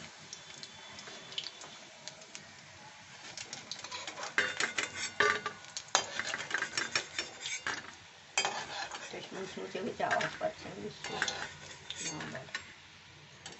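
Fried water lily stem fritters lifted out of a pan, heard as repeated metallic scrapes and clinks of a utensil against the pan over a faint oil sizzle, with no talk.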